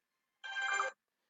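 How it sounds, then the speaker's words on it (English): A phone ringing once in a short electronic tone lasting about half a second, clear and close against silence. "sorry, my phone was ringing."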